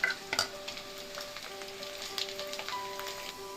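Crushed garlic is stirred into hot oil with fenugreek for Andhra avakai mango pickle, a soft sizzle and crackle with a few light clinks of the utensil near the start, close by and fairly quiet.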